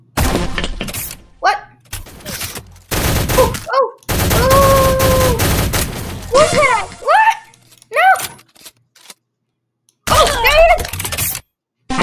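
Bursts of loud game gunfire in the online shooter Shell Shockers, with rapid volleys, cracks and shattering effects separated by short silences, mixed with other game sounds and cartoonish voice tones.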